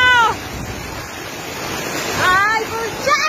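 Floodwater from heavy rains in Ancash, Peru, rushes in a loud, steady roar that fills the whole scene, with brief excited voices calling out over it.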